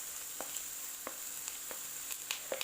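Finely chopped onion sautéing in a frying pan gives a faint, even sizzle, with light spatula taps and stirs scattered through it, close but quiet.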